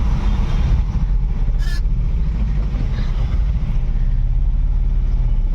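Steady low road rumble of vehicles crawling in a two-kilometre traffic jam near Y junction, continuous and fairly loud from start to end, with no clear voices.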